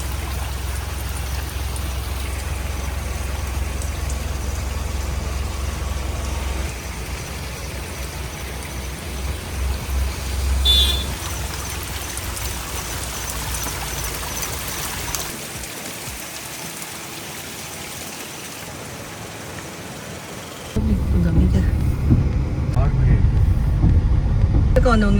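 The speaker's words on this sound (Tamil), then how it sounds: "இந்த அருவியோட சவுண்டு கேளுங்க." A monsoon waterfall in Mahabaleshwar gives a steady broadband rush of falling water, continuous and fairly close, with a deeper surge in the last few seconds.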